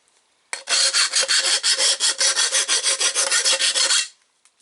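A half round file rasps back and forth along the cut end of an aluminum intercooler tube, deburring it for a dually truck build. Roughly eighteen quick, loud, even strokes come close up, with no talking.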